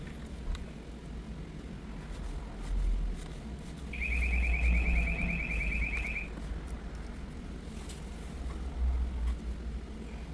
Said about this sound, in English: when we shoot power to it, the speaker makes the noise